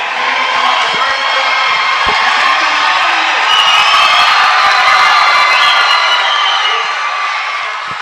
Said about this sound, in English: And applause from the Senath Hornersville fans, showing appreciation for their hometown Lions.